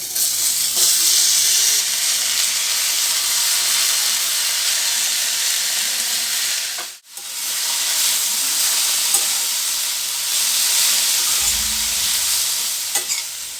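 Cabbage, potatoes, tomatoes and other vegetables frying together in a pan, with a loud continuous hiss and sizzle and occasional stirring scrapes. The sizzle briefly drops out midway, then resumes. Close, with no talk.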